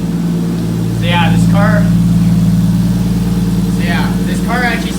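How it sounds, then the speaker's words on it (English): A car's engine idles steadily and loudly with a low, even hum, while someone talks over it. "this car actually sounds really good"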